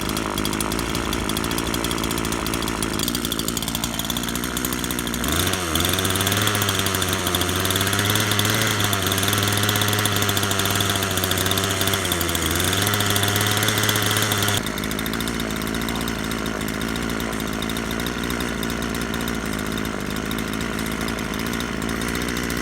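A chainsaw engine buzzes steadily, then jumps to a loud, high-pitched scream for several seconds before falling back to a rough idle.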